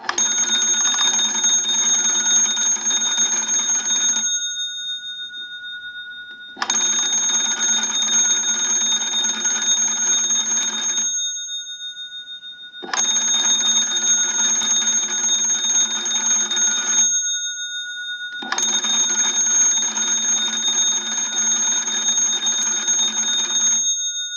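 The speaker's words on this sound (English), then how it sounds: "go ahead and crank the magneto and ring the original bells" Four long bursts of loud, harsh ringing from the original bells of a candlestick telephone bell box, rung by hand-cranked magneto, each about four seconds, separated by short silences; a steady metallic jangle with no voices.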